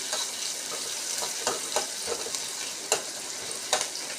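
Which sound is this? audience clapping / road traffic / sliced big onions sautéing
sliced big onions sautéing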